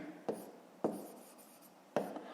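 Pen strokes writing an answer during a fifth-grade math exercise, three short distinct scratches spaced apart, close and fairly quiet with no talking.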